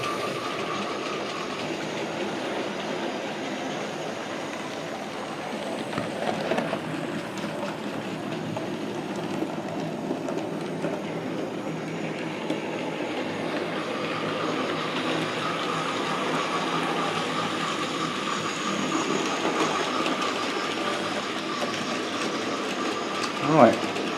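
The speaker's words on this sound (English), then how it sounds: "Here comes our light engine." A light engine locomotive rolls past on the railway, a steady mechanical rumble with clanking and rattling that holds for the whole stretch and rises into a brief sharp clank near the end.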